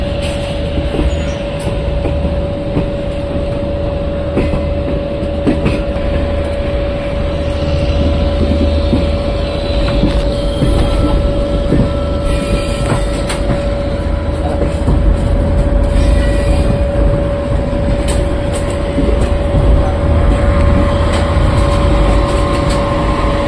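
A Garib Rath Special Express train running as it leaves Bareilly, heard from on board: a loud, continuous rumble of wheels and carriages with rhythmic track clicks and a steady tonal whine, no voices.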